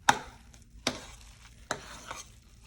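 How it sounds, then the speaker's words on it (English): A spoon works grilled corn into mashed potatoes, making three sharp scraping strokes against the bowl about a second apart with softer squelching between them, close and fairly quiet, with no talk. "Continue to mix that all in there so it gets well incorporated."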